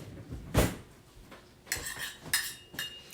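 A big spoon clinks and scrapes a few times against a dish of rice in a home kitchen, with a sharp knock near the start and several lighter clatters later, close up and with no talk.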